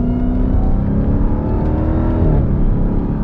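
A 2021 Dodge Durango SRT Hellcat's supercharged engine roars loud and close at sustained high revs on the Road America race track, its pitch dipping briefly as the driver shifts gears.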